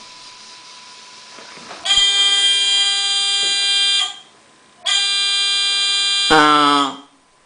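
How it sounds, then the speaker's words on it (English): A buzzer on a fischertechnik driving robot sounds in two loud, steady electronic tones of about two seconds each, separated by a short gap, the second ending in a lower buzzing burst. "The buzzer only should function on color"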